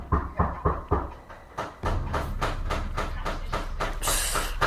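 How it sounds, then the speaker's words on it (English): Repeated knocking on an apartment door, a series of heavy thuds at first, then a denser run of rapid, insistent knocks with a hissy, rumbling background, recorded on a phone. "What you are hearing right now is my ex knocking at my door in my old apartment over and over again."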